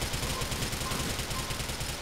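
Rapid automatic gunfire in a police shooter video game, a continuous fast burst of shots rattling at even loudness for about two seconds.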